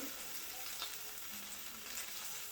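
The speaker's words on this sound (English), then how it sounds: "Just getting this sauce stirred up." Peppercorn sauce for steak au poivre sizzles and crackles steadily in a hot pan as it is stirred, a soft, continuous frying hiss heard up close without talk.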